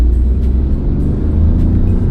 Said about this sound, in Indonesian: Namun memang rumble-nya masih kedengeran gitu ya, karena kan mesinnya sendiri 3 silinder.